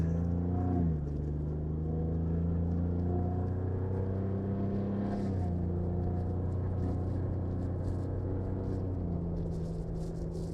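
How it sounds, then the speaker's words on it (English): Ford Bronco with an aftermarket exhaust pulling away from a stop sign and accelerating, a steady loud low engine drone whose pitch climbs in stretches and drops back at each gear change, with no talk over it. "we're at a stop sign here and we're going to drive, get up to about 45 or 50"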